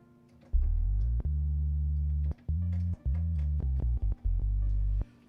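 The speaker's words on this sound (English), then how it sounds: "it has my synthesizer down here. So I can play things up here and it's gonna play here" Synthesizer played live through Cubase, giving a series of sustained low bass notes and chords that start and stop in short phrases, clean and electronic with no voices.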